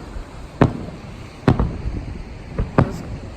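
Distant Fourth of July fireworks near Redondo Beach pop in sharp, separate bursts, about five or six reports spaced unevenly over a few seconds against faint background noise.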